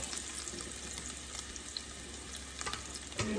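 Garlic frying in a pan before vegetables go in, a continuous close sizzle with light stirring noises and a brief clatter at the end.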